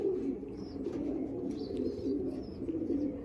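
Pigeons cooing inside a Madrasi and Andhra pigeon loft, soft low coos repeating under a steady murmur of flock noise, fairly faint, with a few brief higher chirps scattered through.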